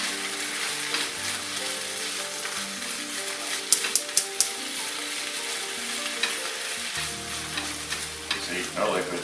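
Spinach wilts in a pan with shrimp sauce, sizzling steadily up close while a spoon stirs and scrapes, with a few sharp clicks of utensil against pan in the middle.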